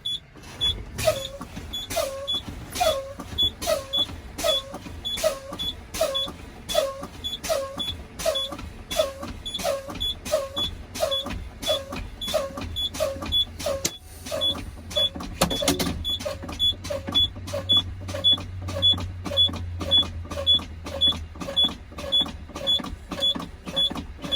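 Steady rhythmic pneumatic pumping as truck air brakes are pumped down, a rapid series of sharp clicks and hisses repeating about twice per second, with a low engine rumble rising partway through.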